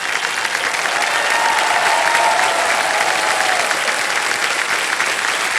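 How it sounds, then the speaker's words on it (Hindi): Loud, sustained applause from the studio audience of the Hindi quiz show Kaun Banega Crorepati, a dense wash of clapping hands that carries evenly for several seconds without a break. "इनके लिए मैं चाहूंगा कि एक बार जोरदार तालियां हो जाएं।"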